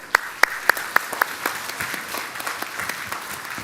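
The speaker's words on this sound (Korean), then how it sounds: "우리 박수로 한번 해주십시오." A church congregation at a Sunday service applauds elders over seventy: a few loud, distinct claps up front lead into a broad, steady wash of crowd applause.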